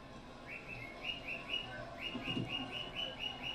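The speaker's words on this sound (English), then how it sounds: "Milo the Bird is freaking the fuck out" Pet bird chirping in repeated short bright calls, two bursts of quick whistled notes over a murmur of background sound, fairly close and clear.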